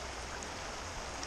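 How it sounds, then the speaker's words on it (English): A small stream flows over rocks with a dense, steady, close rushing and burbling wash that stays level throughout. No voices are heard. "Here's a really nice stream"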